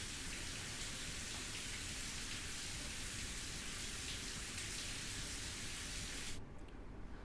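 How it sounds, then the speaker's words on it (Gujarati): Steady rain falls across Saurashtra in Gujarat, a dense continuous hiss that holds evenly for several seconds, then thins abruptly near the end. "ક્યાંક ઝરમર વરસાદ ખાબક્યો, તો ક્યાંક થોડા સમય માટે ભારે વરસાદ પણ"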